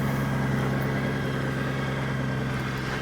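A motorcycle engine idles on its own and settles down from a high idle, a steady, close, even rumble with no voices.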